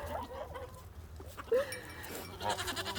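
On a farm, a goat lets out a short, sharp bleat in the middle of the clip, with other faint animal calls and rustling in the background.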